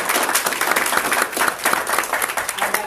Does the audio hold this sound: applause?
yes